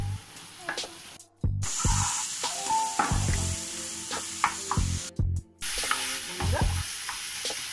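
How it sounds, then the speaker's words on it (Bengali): Spiced prawns sautéed and fried in a pan with cumin powder and a little sugar, giving a steady sizzle broken by repeated close scraping and clanking stirs, with no talking. "এটা খুব ভালো করে একদম খুব ভালো করে কষিয়ে ভালো করে ভাজা ভাজা রান্নাটা করতে হবে"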